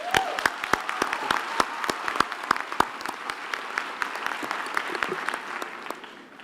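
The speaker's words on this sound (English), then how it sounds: "we should give the campus principal of the South Campus another hand of applause" A university graduation ceremony audience claps sparsely: distinct, sharp individual hand claps ring out over a softer bed of scattered applause in a large hall, staying fairly steady throughout.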